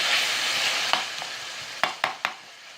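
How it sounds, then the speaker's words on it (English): Diced onions and hot Italian sausage fry in a pan with a steady sizzling hiss, broken by a few sharp scraping stirs of a utensil near the end. Nobody speaks. "Now let the onions caramelize"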